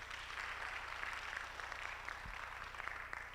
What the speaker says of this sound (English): Let's give her some claps.